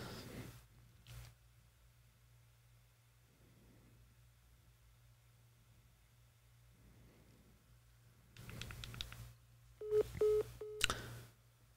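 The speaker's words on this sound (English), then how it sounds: "let's give this phone number a call to see if we actually do even have the right phone number" Phone call placed to a number that doesn't work, with quiet line hiss and faint hum, then near the end several loud short tones and beeps of a failed-call signal.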